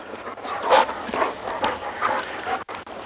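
An unruly Shepherd dog panting and whimpering in short, uneven bursts close by, with soft yips between quieter moments.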